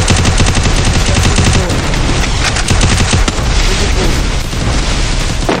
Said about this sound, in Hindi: पर यहां पे स्मूथ के एक और हेडशॉट पर स्मूथ की नॉक